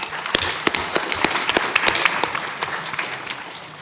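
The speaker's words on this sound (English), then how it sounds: "Let's give them both a round of applause." An audience at a student competition finals claps, a lively patter of many hands with a few sharper close claps standing out, moderately loud and without talking.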